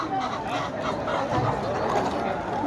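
Chickens cluck and squawk at a busy animal market, amid a dense, noisy crowd with murmuring voices and bustle all around.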